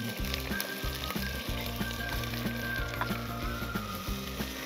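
Tomatoes and green chillies sizzle and fry in a pan with garlic ginger paste for a chicken curry, giving a continuous crackling hiss. Rhythmic low thumps of stirring run through it, with no voices.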